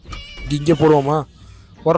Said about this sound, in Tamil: எங்கடா அது பூனை சவுண்ட்?